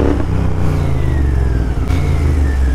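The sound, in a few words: Royal Enfield GT650 motorcycle engine revving loudly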